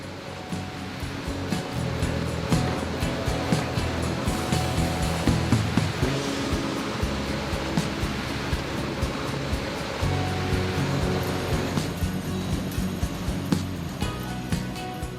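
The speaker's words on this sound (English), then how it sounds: "The cobs are subsequently transferred into a rotary drum washer designed with high-pressure water sprays that systematically wash the cobs with water" High-pressure water sprays hiss steadily inside a rotary drum washer cleaning corn cobs, with a constant dense rush and a faint rhythmic churning.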